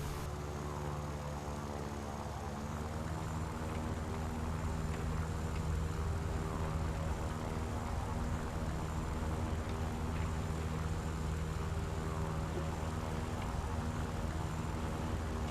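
A Russian aircraft's engine drones steadily through a climb in War Thunder, a constant loud propeller hum with a stable tonal whine that holds at an even level from start to finish, with no voices over it.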